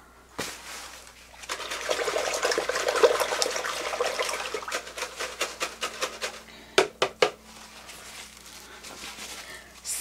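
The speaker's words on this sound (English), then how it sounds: "So I'm going to rinse out my brush." Paint brush swished and rinsed in a water container, a sustained wet sloshing and swirling up close, then several sharp taps of the brush against the rim before quieter trickling.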